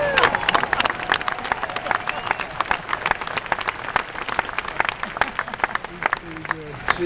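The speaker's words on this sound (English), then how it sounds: "Every time I want to get applause, all I have to do is say that number 12" Audience applause at the Green Bay Packers shareholders meeting, a large crowd clapping steadily in a big hall for several seconds with a murmur of voices.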